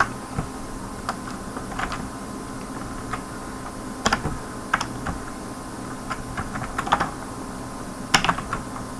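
Scattered keystrokes on a computer keyboard while C program code is entered, light irregular clicks in short clusters with pauses, fairly close over a quiet room hum.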